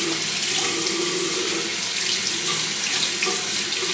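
A tap runs steadily into a sink at home, a loud, continuous splashing rush of water that holds at an even level throughout with no voices over it.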